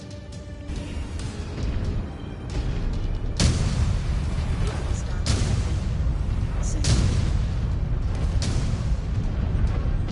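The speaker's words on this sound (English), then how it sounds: "Incoming missile." Missile strikes explode in a Mechwarrior 5 Clans battle, a run of loud booming blasts with sharp broadband onsets at intervals across the clip over a constant roar of combat noise.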